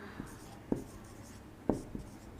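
Pen writing on paper for a simple interest sum in a class 7 maths lesson, with a few sharp strokes and scratches standing out over a quiet background.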